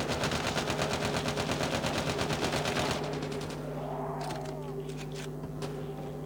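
Rapid automatic gunfire in Call of Duty zombies mode, a loud continuous stream of fast shots for about three seconds before it cuts off, leaving a steady hum and fainter scattered bursts behind.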